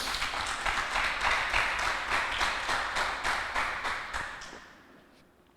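A church congregation applauds together in a sustained, dense burst of clapping that rolls on for several seconds, then thins and fades toward the end, with no voices over it.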